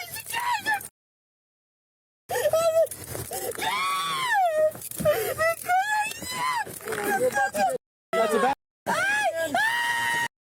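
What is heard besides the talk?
person screaming and wailing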